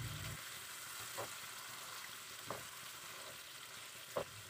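Potatoes sizzle steadily in sambal in a hot pan while a utensil scrapes through them, giving a few soft stirring knocks over the frying.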